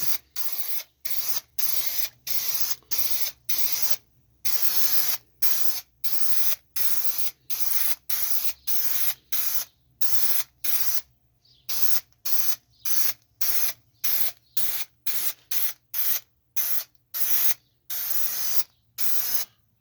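Spray adhesive misted in short, rhythmic bursts as a light coat is laid down for carpet pad in a custom C10 pickup cab, roughly thirty loud hissing blasts separated by brief silences, close by and with no talk.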